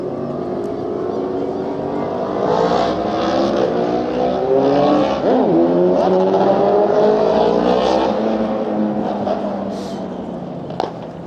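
Loud motor vehicles, likely motorcycles, rev and accelerate along a street in Stockholm, Sweden, the engine roar rising and falling in pitch over steady traffic noise for the whole stretch, close and dominant.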